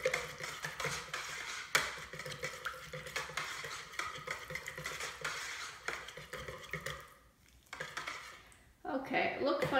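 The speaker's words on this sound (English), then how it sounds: "So I think I'll give it a good whisk to make sure it blends in completely." Lavender is whisked into soap batter in a bowl, giving a steady wet scraping and clattering at close range that pauses briefly near the end before resuming.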